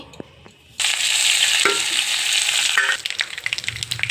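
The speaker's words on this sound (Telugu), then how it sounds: "తాలింపుకి ఆవాలు జీలకర్ర కరివేపాకు ఎండుమిర్చి" Mustard seeds, cumin, curry leaves and dry red chillies hit hot oil for a tempering, a sudden loud sizzling burst that crackles steadily, then thins into scattered spitting pops.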